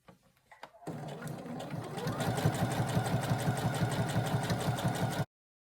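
Sewing machine topstitching 1 mm from the edge of a scarf scrunchie, starting after a few handling clicks and running at a fast steady rhythmic whir for several seconds up close before stopping abruptly.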